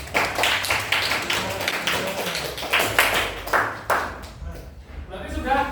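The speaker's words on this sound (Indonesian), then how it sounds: "tepuk tangan untuk semuanya." Students in a classroom clap in quick, uneven bursts during a history lesson, the claps close and lively while voices chatter over them.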